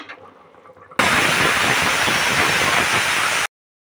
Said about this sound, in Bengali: এভাবে নেড়ে প্রেসার কুকারটা আমি ঢাকা দিয়ে 2টো সিটি মেরে নেব